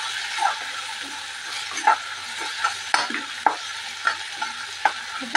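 Ginger-garlic paste frying in a pan, a steady hiss broken by repeated scraping stirs of the spatula at a loose, regular pace, close and fairly loud.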